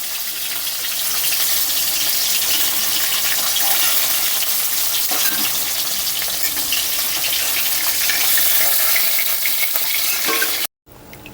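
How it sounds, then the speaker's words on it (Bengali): Fried rohu fish pieces being lifted out of hot oil in a pan for a Bengali fish curry, a continuous loud sizzle with faint scraping and stirring, then a sudden brief drop near the end. "এবার আমি আস্তে আস্তে মাছগুলো তুলে নেব।"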